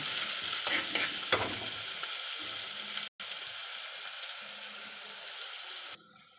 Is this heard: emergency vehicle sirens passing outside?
no